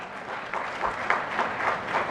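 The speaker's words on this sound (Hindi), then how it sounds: "हमारी भाई ताली बजानी है तो जोर से बजाओ, नहीं तो बजाना मत।" Audience applause under a hot pandal at a university campus inauguration, a steady wash of many hands clapping that swells slightly midway, with no voices.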